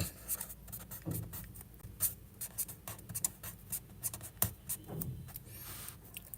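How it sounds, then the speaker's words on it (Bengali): A pen writes on paper close up, a steady run of light scratchy strokes with soft taps as the tip lifts and lands. "আমি আপনাদেরকে লিখে দিচ্ছি"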